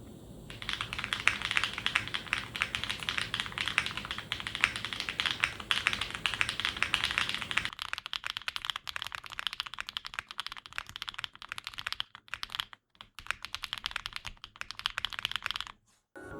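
Typing test on a custom mechanical keyboard with a clacky sound: dense, fast keystrokes run steadily at close range for most of the stretch, thinning into sparser taps with brief pauses toward the end, with no talking.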